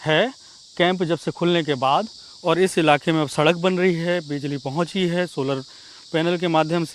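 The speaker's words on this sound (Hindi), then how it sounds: "मेरे पीछे के बैकग्राउंड की जो आवाज़ आपको आएगी वो झींगुर होते हैं, उसकी आवाज़ आपको सुनाई दे रही होगी।" Crickets chirp in a steady high band behind someone speaking in Hindi outdoors in a quiet forest village in Bijapur at night, the insect drone continuous and faint under the talk.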